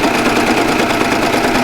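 A serger running steadily as it stitches a seam through two layers of heavy Levi denim, a fast, even mechanical whir held at constant loudness from start to finish with no talking.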